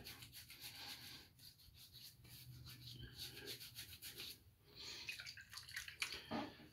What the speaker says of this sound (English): Put some water on my face and rub it in a little bit.